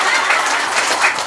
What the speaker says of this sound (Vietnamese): Vỗ tay vỗ đi